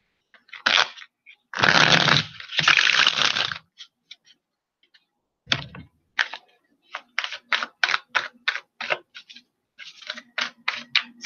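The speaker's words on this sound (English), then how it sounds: "Sorry, I'm trying to shuffle a little bit." Oracle cards being shuffled by hand for a tarot-style reading, with two longer riffling bursts early on and then a rapid run of short, crisp card snaps, close and alone.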